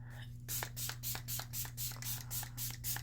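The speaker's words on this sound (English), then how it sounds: "So the elbow spray, I'm shaking it." Quiet, rapid rattling swishes repeat about ten times in an even rhythm, like a spray bottle being shaken close by.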